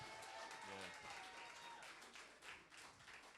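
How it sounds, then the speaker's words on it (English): Live audience applause for the R&B group Jodeci, a crowd clapping at a fairly low level with scattered distinct claps, partly mixed with voices talking. "Give him a round of applause"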